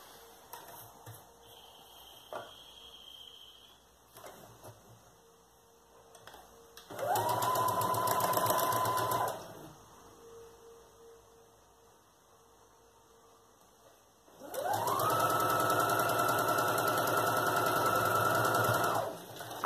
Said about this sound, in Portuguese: eu vou passar a costura aqui com o pé de máquina